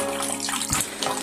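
Water drains and trickles from a betta fish tank during cleaning, a steady close splashing flow with a brief louder gush partway through.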